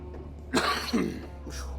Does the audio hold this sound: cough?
yes